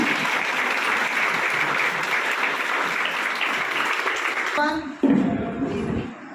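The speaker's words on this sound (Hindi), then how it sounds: "अभिषेक जी के लिए जोरदार ताली" Applause from an audience at a coaching institute event honoring a newly selected deputy collector, dense and sustained clapping for about five seconds before it drops off, followed by a brief burst of louder, closer sound.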